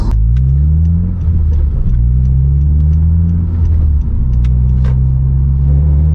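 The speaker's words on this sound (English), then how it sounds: "I should be good to do my 3rd gear pull from 2000 RPM all the way to 76" A car engine pulls hard in third gear from 2000 RPM with a loud, deep, steady drone and a slowly shifting pitch, heard close and alone.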